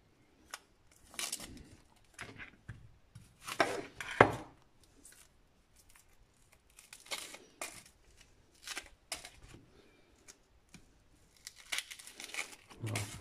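A knife chops onions on a board in irregular clusters of crisp, close cuts with pauses between them, moderately quiet with some crinkling handling noise.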